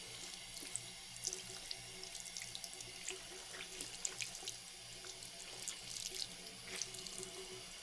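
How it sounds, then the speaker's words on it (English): A vintage 1990s troll doll being hand washed in a sink, with steady running tap water and small splashes and drips. It sounds faint and continuous and carries no voices. "So I'm just going to give it a little hand wash for now"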